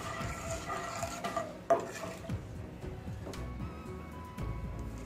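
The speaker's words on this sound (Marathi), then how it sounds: "पिस्ता देखील जास्त वेळ नाही गरम करायचं, अगदी थोडा वेळ खालीवर करायचे तेलात" Pistachios stirred briefly in hot oil in a pan on a low flame, utensil scraping and clinking against the metal over a faint continuous sizzle, with one sharper knock partway through.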